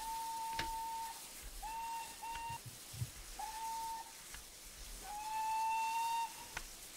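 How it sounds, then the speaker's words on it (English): A steam whistle from an SE&CR Wainwright H Class 0-4-4T tank locomotive in Train Simulator 2019 gives several high, steady toots of varied length over a constant background hiss, close and clear with no talking. "would we like to hear what the whistles sound like?"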